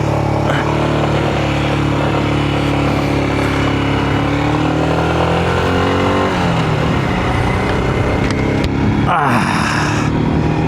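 A roughly 24-horsepower adventure motorcycle accelerates on the road, its engine note climbing steadily through the gears with constant loud wind rush, heard from the rider's position.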